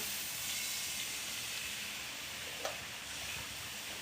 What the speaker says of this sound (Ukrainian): Наливаю з чайника гарячої води.